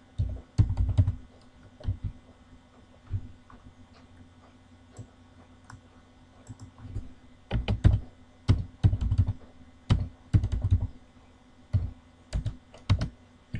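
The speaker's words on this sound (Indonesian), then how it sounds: "kita ketik dulu datanya supaya nanti bisa dikerjakan" Data being typed on a computer keyboard, with bursts of quick clicking keystrokes separated by short pauses, close and clear with no talking.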